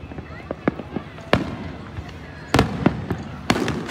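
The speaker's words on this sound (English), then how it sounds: "We're filming the fireworks." Fourth of July fireworks in Princeton bursting as sharp cracks and booms, a few spaced explosions with one double burst, heard over steady crowd noise and people talking.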